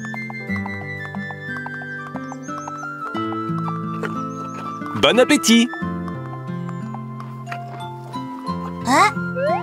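Cartoon horses clip-clop into their stable in an animated children's show, light hoofbeats and a whinny mixed under bright music while voices speak.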